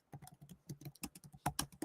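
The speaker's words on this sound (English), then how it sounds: "Now, the second one I'm typing in here." Rapid clattering keystrokes on a computer keyboard, irregular bursts of sharp clicks at close range with no voices.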